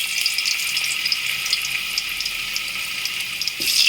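Potatoes cook in hot oil in a pan, giving a steady, fairly loud hissing sizzle with little variation, close by, and a brief knock near the end.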